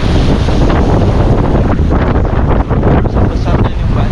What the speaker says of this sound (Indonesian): Oh, ini semakin kenceng ini ya ombaknya ya